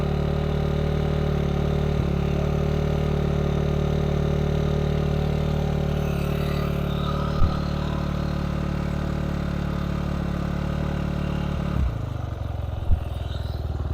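A small engine, likely a motorcycle with a reserve fuel valve and choke, idles steadily after starting, a constant near rumble with a couple of brief clanks and no talking.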